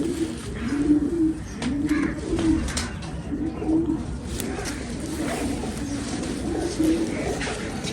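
Pigeons coo in a steady repeating rhythm, with soft low calls recurring about once a second, close by and moderately loud over a faint background.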